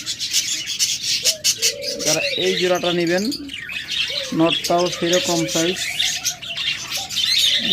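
Pet cockatiels, budgerigars and lovebirds at a bird sale chirp and whistle in repeated bright calls close by, while someone talks over them throughout.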